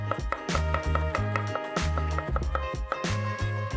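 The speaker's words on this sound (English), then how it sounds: "So now I'm just gonna cut up about 3 cloves of garlic sliced." Knife slicing three garlic cloves on a cutting board, a steady series of crisp close taps in an even rhythm over a continuous musical background.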